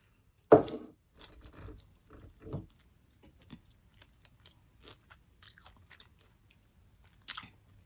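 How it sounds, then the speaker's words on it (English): A sharp, loud crunch as teeth bite into a crispy teriyaki chicken wing from an air fryer, then softer chewing that continues in small scattered crunches and fades, with a last brief crackle at the end. "So now I'm trying the teriyaki wings."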